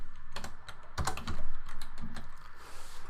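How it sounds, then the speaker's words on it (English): Rapid bursts of keystrokes on a computer keyboard, close and crisp, clustered in quick runs with short pauses between, no voice over them. "we're going to type in Austin"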